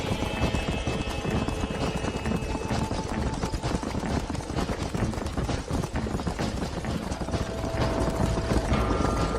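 Galloping hooves in Red Dead Redemption pound in a fast, continuous clip-clop rhythm, close and loud throughout, over a busy game background.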